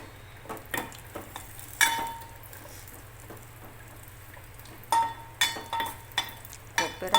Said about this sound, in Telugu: ఇవన్నీ డ్రై ఫ్రూట్స్ అన్నీ వేయించుకోవాలి.